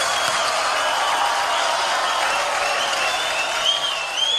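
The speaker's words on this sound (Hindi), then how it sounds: "एक बार जोरदार तालियां" An audience at an event honoring a film writers' guild applauds in a steady, bright, sustained roll of clapping, with a few whoops near the end.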